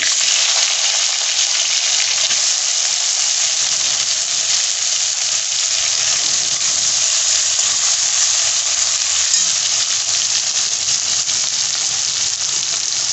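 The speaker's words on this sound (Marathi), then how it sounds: "लसूण चांगला फ्राय झाला की हा जो टोमॅटो आहे तो टाकून घ्यायचा।" Tomato tossed into garlic frying in a pan makes a loud, steady sizzle and crackle that holds evenly throughout, with no voices.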